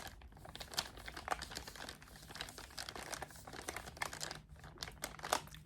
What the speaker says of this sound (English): The next section of items that I have are all in little crinkly packages.